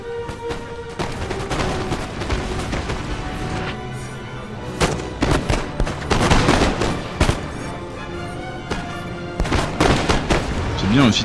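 Musket volleys and cannon booms crackle through a Napoleonic battle in Napoleon: Total War during the siege of Acre, with dense overlapping shots of varying loudness across the whole stretch and a voice talking over the din.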